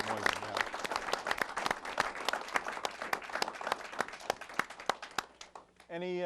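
A meeting audience at the Salem Access TV 14th Annual Meeting in 2007 applauds David Moisen, with sharp individual claps ringing out steadily for about five seconds before the clapping dies away and a voice begins speaking.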